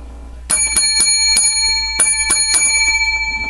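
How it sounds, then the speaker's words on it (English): A series of seven or so bright bell strikes rings out in irregular succession, each with sustained metallic overtones, close and clear over a low steady hum, with no talking. "seven lucky bells for our show"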